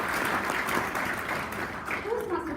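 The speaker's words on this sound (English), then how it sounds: "Let us give a thunderous applause to Toastmaster Karina." Applause from the audience at a Toastmasters division speech contest fills the room as a steady wash of clapping, with voices talking over it and a brief tonal voice near the end.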